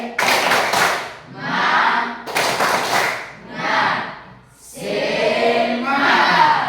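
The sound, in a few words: group clapping a rhythmic spirit clap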